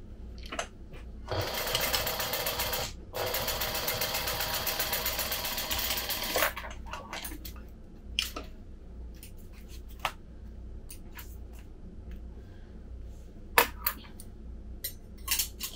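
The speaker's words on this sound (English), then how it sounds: "now I'm going to sew my center" A sewing machine stitches a card slot's center seam in two loud continuous runs with a short pause between, then gives way to scattered light handling clicks and taps.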